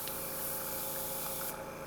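Spray paint hissing steadily onto doll parts for a Pullip doll kit, one continuous close, even spray lasting the whole moment.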